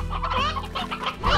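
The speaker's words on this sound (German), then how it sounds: "Wollen wir uns erstmal die normalen Hühner holen?" Cartoonish chickens from the farming game Slime Rancher cluck in quick, busy bursts, close and fairly loud, with no talking over them.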